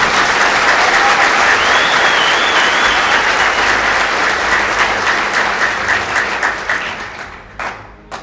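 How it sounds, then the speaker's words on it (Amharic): A seated audience at a motivational life-coaching talk claps together in sustained, dense applause that holds steady for several seconds, then thins and fades out near the end. "አንድ ጊዜ አጨብጭቡ እየተከተላችሁ።"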